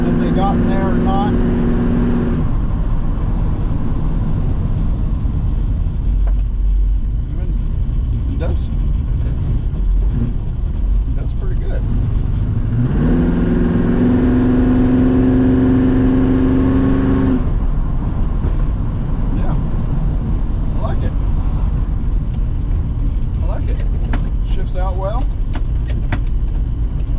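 A 1968 Ford Mustang wide-body J-Code V8 engine rumbles loudly from inside the car during a test drive, with a strong acceleration surge and rising revs midway before settling, plus brief rattles and someone talking at times.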